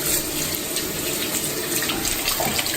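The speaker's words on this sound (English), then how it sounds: "And that is washing your hands." Hands being washed with soap under a running tap: a steady, close hiss of water streaming into a sink, continuous and fairly loud with no voices.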